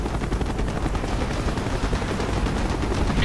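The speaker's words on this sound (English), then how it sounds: "Taking AAA fire from the deck!" Dense, continuous rattle of anti-aircraft gunfire in the video game Call of Duty: Black Ops, with a rotor-like drone underneath, loud and unbroken throughout.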